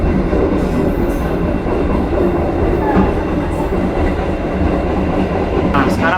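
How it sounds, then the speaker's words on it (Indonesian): A passenger train on a West Sumatra line, turning left toward Naras, rolls steadily along. The rumble, rattle and clatter of the wagons stay loud and continuous throughout, with a brief sharper squeal near the end. "kereta api kita itu belok ke kiri ke arah Naras"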